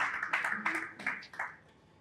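A few scattered claps and a short burst of applause from an audience at a Nigerian business awards event, sounding close and thin, fading toward the end.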